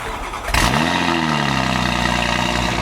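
A large car engine cranks and fires up abruptly, like a truck on a cold start, then settles into a loud, steady idle with a deep rumbling tone that continues close by.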